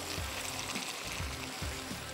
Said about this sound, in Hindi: थोड़ा सा इसमें मैं पानी शामिल करूँगा